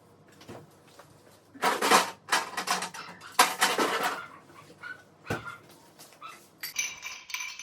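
Two ice cubes dropped into a small container of saffron and stirred, making a few loud clattering clinks followed by lighter knocking and scraping, close and with no talking.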